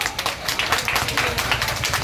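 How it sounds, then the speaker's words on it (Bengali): At a police traffic-awareness event, a crowd claps steadily and fairly loudly, dense overlapping claps sustained without a break for two seconds. "একটু জোরে করতালি হয়ে যাক"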